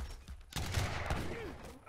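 Culverin cannons fire in a match of the real-time strategy game Age of Empires III, a sudden burst of blasts rolling into a sustained rumbling barrage, with a commentator's voice over it.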